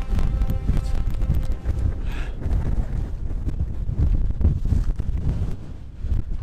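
Heavy wind buffets the microphone in continuous loud rumbling gusts, with no voices over the blustery roar, on the climb up the Puy de Sancy.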